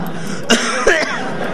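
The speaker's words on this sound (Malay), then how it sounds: "Batuk." Two short coughs spaced a fraction of a second apart, close and fairly loud over a steady room background.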